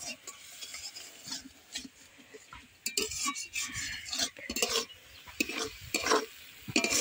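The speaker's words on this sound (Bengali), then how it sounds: "জল দিয়ে আমি পুরো মশলাটাকে কিন্তু ভালো করে কষিয়ে নেব" A spice paste masala being slowly stirred and fried in a pan over low heat with a splash of water, soft sizzling under repeated scraping strokes and occasional clinks of the spoon against the pan.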